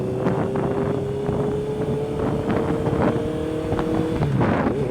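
A black 2021 Honda CBR650R four-cylinder sport motorcycle cruises with light throttle, giving a steady engine hum mixed with heavy wind rush, continuous and loud from the rider's position.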